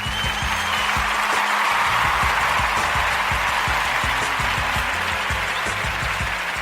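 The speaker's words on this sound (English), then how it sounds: "Let me give you a nice round of applause" Audience applause on a sports talk show about the 2018 NFL Draft and the Atlanta Falcons, a steady dense wash of clapping that stays loud and even throughout, with no speech over it.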